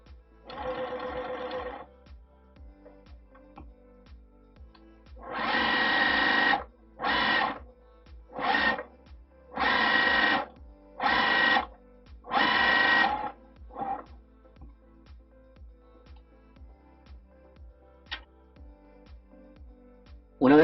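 A sewing machine stitches a quilt-as-you-go patchwork table mat in repeated bursts of rapid mechanical whirring, each run lasting one to three seconds with short pauses between, close and clear.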